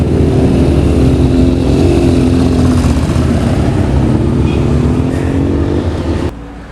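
Classic motorbikes ridden past by riders in suits, heard as a continuous loud engine drone with shifting tones that lasts several seconds and drops off near the end.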